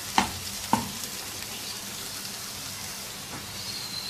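Egg bhurji, street-food dhaba style, with melted butter or oil spooned over, sizzles steadily in a pan while two sharp spoon clacks sound near the start, then the frying hiss carries on alone.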